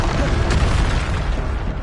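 A Bombarda spell blast in the video game Hogwarts Legacy lands as a loud, dense booming burst, close and forceful, with rumbling noise spread across the whole moment.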